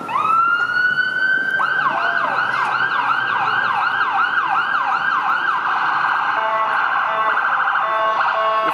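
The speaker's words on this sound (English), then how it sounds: "Oh, ambulance coming." A loud wailing ambulance siren sweeps up and down repeatedly on Yonge Street in downtown Toronto, close by and steady, with a continuous rising-falling tone throughout.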